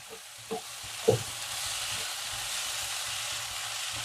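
Soaked moong dal and chopped beans are stirred in a pan, with a couple of soft scraping knocks against the pan early on over a steady, low sizzle.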